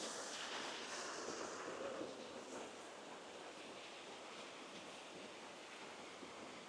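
Broad, steady rushing of a large waterfall in Kings Canyon, an even white-noise roar that stays constant and fairly faint throughout, with no voices.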